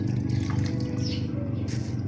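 Water is poured into a pot of young jackfruit simmering in coconut milk, making a steady splashing trickle with a low bubbling rumble beneath it, close and continuous.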